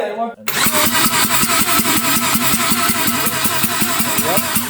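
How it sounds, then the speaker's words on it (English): A Lada 2106 fitted with a 13B rotary engine cranks over on the starter, a loud close rhythmic whirring chug that keeps a fast even pulse for several seconds after a brief pause at the start. "So the cranking now is only to set the proper timing."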